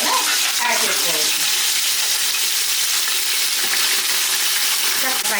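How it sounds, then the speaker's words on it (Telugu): Vegetables with chopped coriander and mint fry for a vegetable pulav, giving a steady, loud sizzle with faint stirring throughout. "ఫ్రై చేసుకోండి, అప్పుడే రైస్కి ఫ్లేవర్ చాలా బాగుంటుంది."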